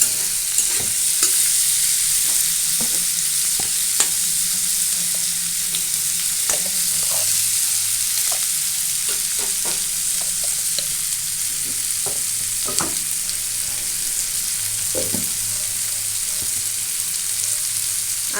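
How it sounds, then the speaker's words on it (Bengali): Bitter gourd frying in hot oil in a kadai with turmeric and salt, a steady loud sizzle throughout with repeated scraping and clinking of a spatula as it is stirred. "হলুদ আর লবণ দিয়ে এটাকে আমি খুব ভালোভাবে নাড়িয়ে নিচ্ছি"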